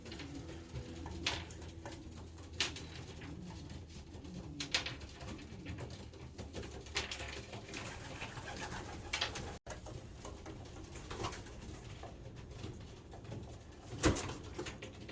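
Racing pigeon hen cooing softly in a loft, repeated low coos at irregular intervals over faint background rustling and patter.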